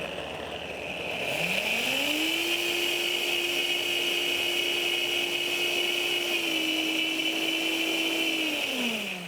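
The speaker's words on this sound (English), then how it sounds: "If you have a high-powered blender like I do, that's a great thing." A high-powered blender pureeing pumpkin soup, its motor spinning up after about a second into a loud, steady whir that holds, dips briefly, then winds down near the end, with no talking.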